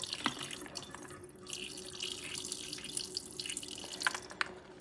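Water being poured out of a pot of soaking dried beans splashes and trickles continuously, close by, with a few brief drips and sloshes near the end; no one speaks.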